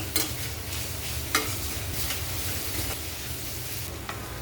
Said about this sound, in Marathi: सगळं काही परतायचं आपल्याला गॅस मोठा ठेवून